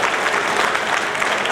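Audience at a Lions Club of Nizamabad gathering applauds steadily, a dense, loud wash of clapping held throughout without a break.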